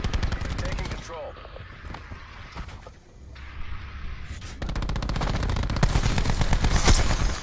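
Machine gun hip fire in Black Ops 4, long bursts of rapid shots with a brief lull in between, loud and close, with game sounds and a player's voice underneath.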